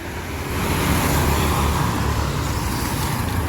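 Jetbus HD and Scania buses idle at a bus station, a steady broadband diesel rumble with low engine hum filling the scene continuously, moderately loud and without voices.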